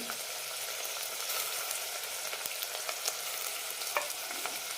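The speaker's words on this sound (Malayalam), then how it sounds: "നന്നായി വഴറ്റും." Coriander and mint leaves sauté in hot oil for kuska biryani, a continuous close sizzle with occasional light stirring scrapes and faint crackles, with no talking.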